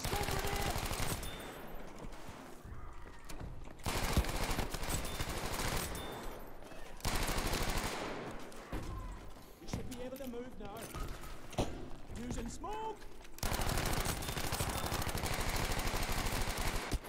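Gunfire in the video game Battlefield V: bursts of automatic fire and single shots in rapid clusters, separated by brief gaps, with a player talking over the shooting.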